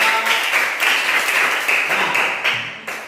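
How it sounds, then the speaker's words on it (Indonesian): A class of students claps together in a brisk, loud burst of many hands during a classroom lesson, the rhythm slightly uneven and holding for about three seconds with no talking over it. "tepuk tangan buat kita semua"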